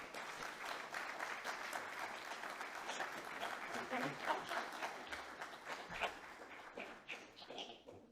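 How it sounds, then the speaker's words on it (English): A conference audience applauds steadily and fairly loudly for several seconds, a dense wash of many hands clapping that thins slightly toward the end. "just give them a round of applause to invite them up"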